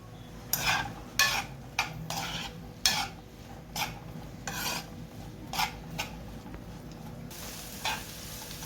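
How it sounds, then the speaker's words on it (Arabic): Onions sauté in a pan for an oxtail tagine, softening without browning. Rhythmic scraping stir strokes recur over a low, steady sizzle, close and fairly quiet, with no talking. "هنزل عليها بالبصل، ابتدي اديله تشويحه لحد بس ما يدبل معانا"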